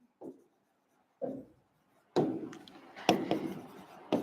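Chalk or a marker scratches on a classroom board in short, separate strokes, a few isolated scrapes followed by a quicker run of taps and rubs, close and fairly quiet.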